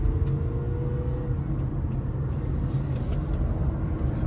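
Continuous low engine rumble and road noise from a moving car bought cheaply at auction, on its first drive, steady and close, with no talking.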